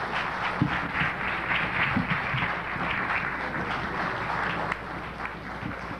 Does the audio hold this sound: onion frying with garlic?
no